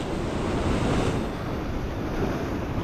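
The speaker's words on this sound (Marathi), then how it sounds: "लाट मोठी मोठी येतात हा." Big waves roll and crash on a rough sea during small-boat fishing off the Konkan coast, a loud, continuous roar mixed with wind buffeting the microphone and no talk.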